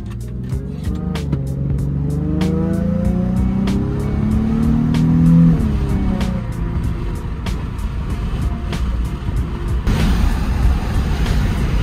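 A car drives along, its engine droning steadily and loud from inside the cabin, with the pitch rising and falling as it speeds up and settles, and regular ticking throughout.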